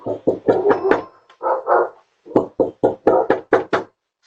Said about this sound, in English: In the background, the homeowner's dog was barking.